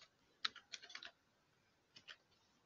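Keystrokes on a computer keyboard while setting up a database user during a software install: a quick cluster of faint clicks, a pause, then a couple more taps, all soft and fairly close.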